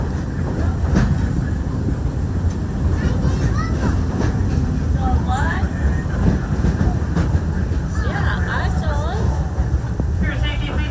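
A mine train ride at Magic Kingdom theme park rolls along its railroad track, giving a steady, close rumble and rattle of wheels throughout, with voices and brief whoops heard over the noise.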